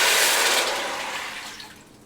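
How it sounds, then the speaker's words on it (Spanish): Four cups of water pour into a heating saucepan as a loud, splashing gush that gradually fades over about two seconds, with no talking. "le voy a agregar 4 copas de agua"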